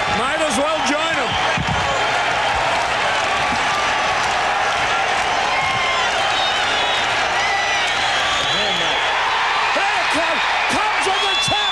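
Loud baseball crowd roaring and cheering as the Cubs win, a dense continuous wall of stadium noise with claps and bangs, an announcer talking over it.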